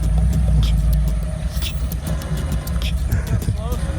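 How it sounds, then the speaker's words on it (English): A car engine held at idle for a carburetor test, giving a steady, close low rumble that dips slightly in level partway through, with faint outdoor noise on top. "doing an idle test with the carburetor right now"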